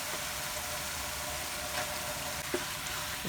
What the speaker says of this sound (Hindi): अब हम इसमें ये आलू जो हमने मैश करके रखे थे ये डाल देते हैं